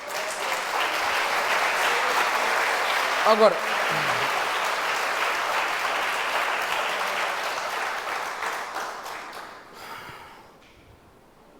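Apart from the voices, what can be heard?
congregation applauding in church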